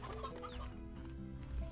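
Chickens clucking in the video game Slime Rancher, a short run of soft, overlapping clucks set against a steady low in-game hum, with no voices over them.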